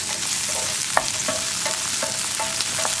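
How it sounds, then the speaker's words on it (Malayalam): Spice powders sauté for sambar in the same pan where tomato and okra have been cooking, giving a steady close sizzle with scattered scraping stirs of a spoon against the pan. "ഇതേ പാനിൽ തന്നെയാണ് നമ്മളിനി പൊടികളൊക്കെ വഴറ്റിയെടുക്കുന്നത്."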